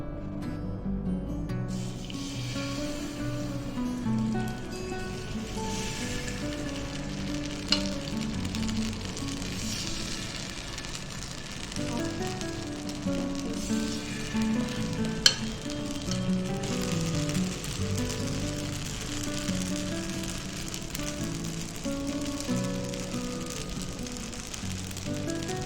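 Paniyaram batter sizzles and crackles steadily in a new paniyaram pan, a soft, continuous frying hiss with faint utensil clinks and occasional taps, heard close and fairly quiet.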